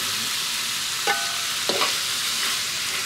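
Pork offal for phá lấu sizzles steadily in hot oil inside a pot, with a few brief scraping stirs breaking through the continuous frying hiss at close range.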